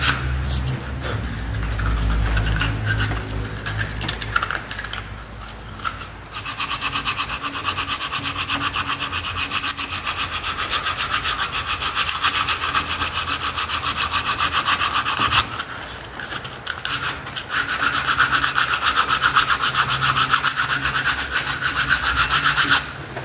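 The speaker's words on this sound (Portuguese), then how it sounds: "Eu uso essa lixa grossa aqui pra poder tirar o excesso." Coarse sandpaper scraping over polyester body filler on a tricycle, a steady, loud, rasping rub that continues for the whole stretch with a short pause partway through, close up with no talk.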